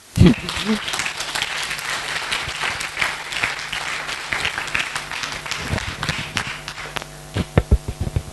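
An audience at an all-day seminar applauds loudly and continuously, with a few sharp closing claps as the clapping ends and a voice speaking over it.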